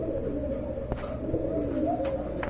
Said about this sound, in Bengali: এই যে দেখেন বিগ সাইজের এক জোড়া কবুতর